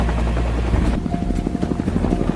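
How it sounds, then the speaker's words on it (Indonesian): Two military helicopters arrive, rotors thumping in a fast, steady rhythm, loud and close, the chopping beat dominating the scene. "menyiapkan 2 pesawat heli untuk mengangkut bantuan senjata"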